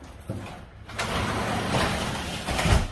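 A residential garage door slides and rumbles along its track, a continuous mechanical grinding that builds slightly toward the end.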